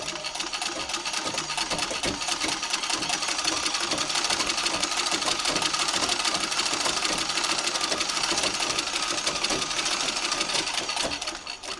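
A Singer treadle sewing machine with a spring coil treadle belt runs steadily, a fast continuous mechanical clatter and whir heard close up, even throughout with no talk.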